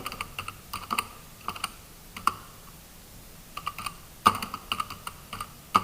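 Keys clatter on a computer keyboard as a word is entered into a text field, in short irregular bursts of close, crisp clicks with brief pauses between them.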